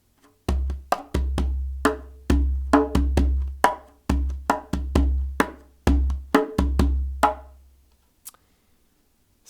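A hand drum plays a lively rhythmic pattern of quick deep and sharp strokes for several seconds, then stops, with no voices.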